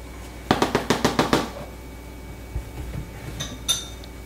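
A spoon stirs cream of wheat in a pot, starting with a quick run of about eight sharp metallic clinks against the side, followed by a few softer scrapes and taps.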